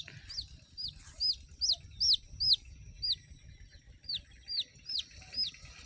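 Young chickens give about a dozen high, clipped peeping clucks in a quick uneven series, close and clear over a quiet outdoor rural background near a pond.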